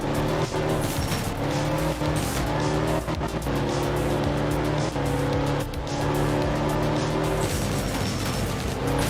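A rally car in the video game Art of Rally revs hard and changes gear, its engine droning with repeated throttle swells and tire squeal as it slides through corners, loud and continuous with no talk over it.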